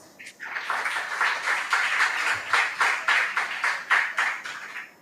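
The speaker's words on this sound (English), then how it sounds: "Give them a round of applause" A small audience claps for school debate teams in a sparse, uneven patter of individual hand claps that rises, then comes in rhythmic bursts, fairly close and with no talk over it.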